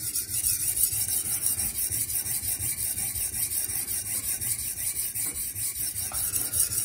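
A blade of M390 steel is drawn steadily across oiled diamond whetstones on an OSB bond, giving a continuous close rasping scrape that runs without pause and with no speech.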